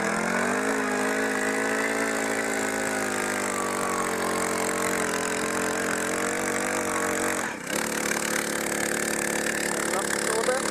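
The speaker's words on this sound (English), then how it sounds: "Gonna drill the hole now." A power drill drilling a hole in cedar wood for a dock deck whines steadily and loudly for several seconds, its pitch shifting slightly, with a brief dip before it carries on.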